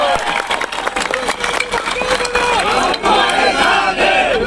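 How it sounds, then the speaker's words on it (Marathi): A seated audience at a public gathering breaks into loud, sustained clapping mixed with cheering and shouted voices, a close, dense crowd roar that holds steady throughout. "त्यांचा एक मोठा टाळ्या वाजून सत्कार आपण केला पाहिजे."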